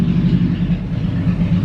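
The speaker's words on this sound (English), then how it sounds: "stop revving your engine like that." A car engine revs close by, giving a loud, steady low rumble with a pulsing throb across the brief moment, and no one speaks.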